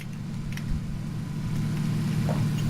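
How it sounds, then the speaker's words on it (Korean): A vehicle engine in the battle-royale game PUBG produces a steady, low, droning hum that holds at moderate volume without breaks. "차 소리."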